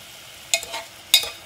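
Beef strips frying in sesame oil over moderate heat, heard as two brief bursts of sizzle and stirring about half a second apart, close and fairly quiet.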